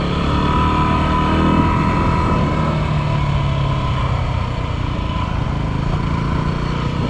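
A dirt bike on Shinko MX216 tires idles and runs on a street, a loud, steady engine drone that never lets up for the whole stretch.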